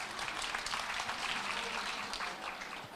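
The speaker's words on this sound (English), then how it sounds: "round of applause for the gentleman over there" An audience at a marketing conference applauds in a dense, steady round of clapping that lasts the whole stretch without a break.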